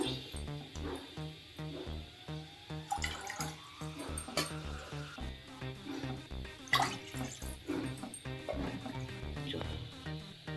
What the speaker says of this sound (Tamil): 3/4 கப் அளவுக்கு தண்ணி சேர்த்துக்கலாம்